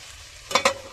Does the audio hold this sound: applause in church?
no